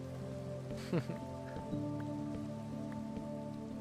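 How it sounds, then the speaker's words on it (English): Soft, steady rainfall in Minecraft patters throughout beneath a low droning hum, with a couple of brief clicks and bumps. "with this rain and how it's kind of dark"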